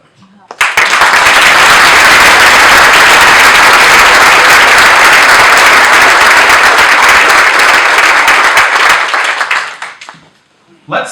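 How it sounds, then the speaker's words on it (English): An audience at a chamber of commerce awards ceremony breaks into loud, sustained applause, dense clapping from many hands rising quickly, holding for about nine seconds, then fading out. "Let's give another big round of applause for all of our award winners this evening."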